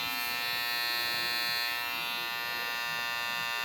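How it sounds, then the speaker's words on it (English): A steady electric buzzing hum of hair clippers running continuously, close and fairly loud, with no talking. "So we'll turn that on to hear what that sounds like."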